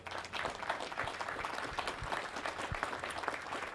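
An outdoor crowd gives a round of applause for graduating cadets at a university spring pass-and-review ceremony, the clapping soft and somewhat distant, a steady patter of many hands.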